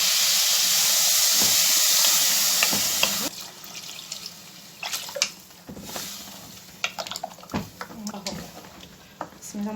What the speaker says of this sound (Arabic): هنزل انا بقى بالميه بتاعتي